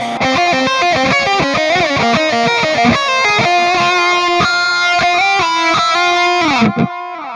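Distorted electric guitar through an overdrive pedal playing a quick run of notes, then sustained crunchy chords ringing out before cutting off, loud and close.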